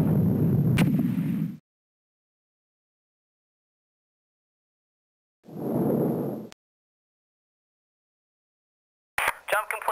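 Spaceship hyperjump effect in the video game Star Crusader: a short roaring burst, then silence, then a second brief whooshing surge, with clipped sound starting again at the end.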